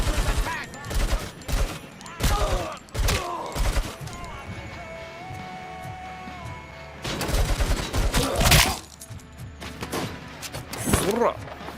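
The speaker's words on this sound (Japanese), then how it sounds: "機関銃が効くね。" Bursts of automatic machine gun fire in the shooter game RoboCop: Rogue City, loud clustered volleys with pauses between them, set against background game music and effects.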